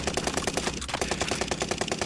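Automatic gunfire in Call of Duty: Modern Warfare, a fast, even string of close shots in rapid rhythm with a brief break partway through.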